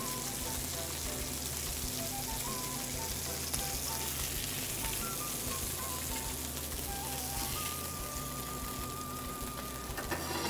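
Trout fillets sizzle steadily in a hot pan, a continuous close, fairly loud frying crackle throughout with faint tonal kitchen hum.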